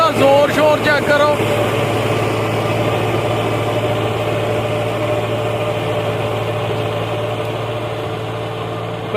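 A tractor engine runs steadily while a wheat field is prepared, a low constant drone held close and loud throughout, with brief faint clatter near the start.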